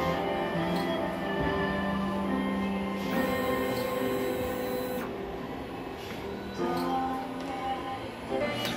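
An inkjet printer runs a print head cleaning cycle, a steady mechanical whir and hum with shifting motor tones and a few abrupt changes, heard on its own without talk.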